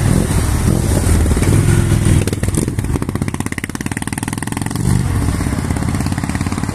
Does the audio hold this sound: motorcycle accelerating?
yes